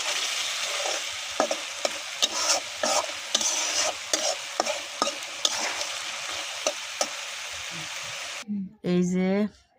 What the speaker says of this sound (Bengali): এই যে আমি ইলিশ মাছ রান্না করছি